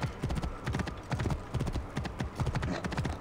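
Rhythmic hooves of a horse clip-clop steadily in Assassin's Creed Origins, crossing Egypt's Desheret Desert and Qattara Depression, a quick regular gallop-like beat repeating throughout, moderately quiet with no voices.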